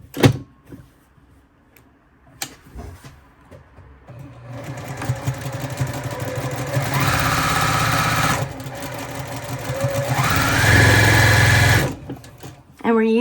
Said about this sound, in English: I'm going to turn it and I'm going to sew down this side of the lining